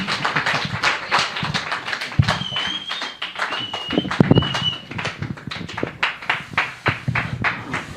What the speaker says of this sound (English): So once more, a big round of applause for Tom Franklin.